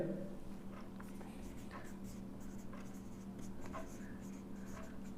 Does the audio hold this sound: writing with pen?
yes